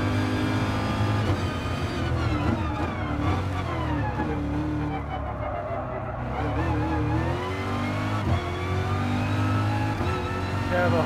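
Grade 3 race cars revving during a Gran Turismo Sport race on the Sardegna road track, a sustained loud engine drone with rising and falling revs, gear shifts and tire squeal throughout.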